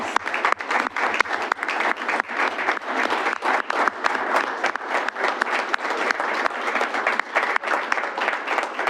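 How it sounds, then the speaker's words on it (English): A large crowd at a city council meeting applauds steadily and loudly, dense clapping sustained throughout without pause. "Let's have a round of applause."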